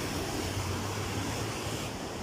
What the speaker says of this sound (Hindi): साफ़ शफाफ पानी लग रहा है और इसका बहाव भी तेज़ है।